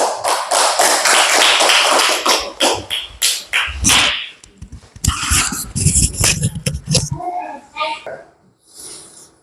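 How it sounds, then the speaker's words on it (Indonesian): A classroom of students claps hands in a lively, uneven flurry of sharp claps for a few seconds, then thins into scattered claps as voices and chatter take over. "Oke, tepuk tangan."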